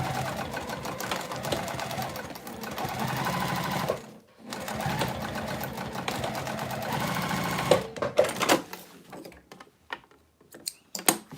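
A sewing machine stitches fabric bag pieces together in long steady runs, close and continuous, with a brief pause midway, then stops into a few scattered clicks and handling sounds.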